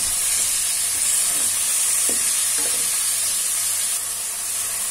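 Chicken frying in a pan gives a steady, loud hiss and sizzle, with a couple of faint clinks of stirring partway through; no voices.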